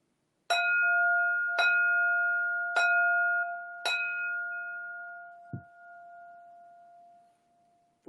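Four clear strikes of a bell ring out at steady intervals, each leaving a long, pure ringing tone that fades slowly into quiet, followed by a soft thump near the end.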